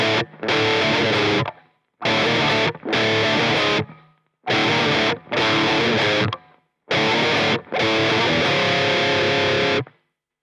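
Heavily distorted electric guitar in standard tuning plays the chorus riff of a song on a six-string, loud chugging power-chord bursts in several phrases separated by short gaps of silence.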